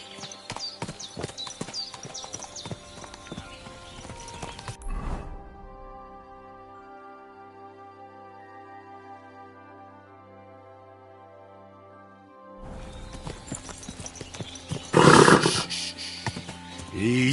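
A horse in the video game Kingdom Come Deliverance 2 clops along in a rapid patter of hooves, goes quiet under a sustained tonal stretch, then returns with a loud burst of hoof beats and whinnying near the end.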